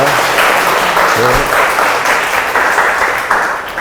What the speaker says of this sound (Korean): 오늘 강연 들려주신 교수님께 다시 한번 큰 박수 부탁드리겠습니다